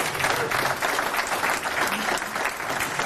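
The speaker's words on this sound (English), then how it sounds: "let's give them a round of applause after each club" Steady, loud applause from a crowd at a swimming awards ceremony, many hands clapping continuously throughout with no pauses.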